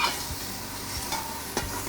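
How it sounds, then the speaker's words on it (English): Chopped onions sizzle in a hot pan for white chicken chili while a spoon stirs them, giving a steady close frying hiss with a few soft scraping knocks of the stir. No one talks. "we have a great sizzle going on here"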